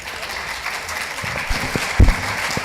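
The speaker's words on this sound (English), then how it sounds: "Round of applause." A conference audience breaks into brief applause at the end of a session of the Nigerian Bar Association business law conference, a short burst of scattered clapping.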